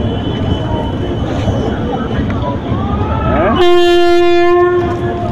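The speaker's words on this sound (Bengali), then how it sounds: "তো ট্রেনের হর্ন বাজিয়ে দিয়েছে" The Teesta Torsa Express sounds a loud, steady horn blast up close at a station after a stretch of busy rumbling noise and chatter, the blare holding for over a second.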